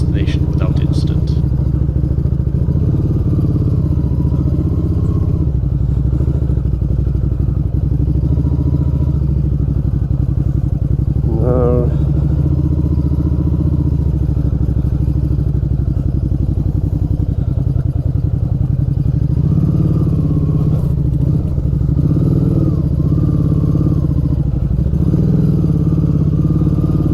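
Road motorcycle on road tyres ridden off-road over rough ground, a steady low engine drone with occasional clatter and thuds under a speaking voice throughout.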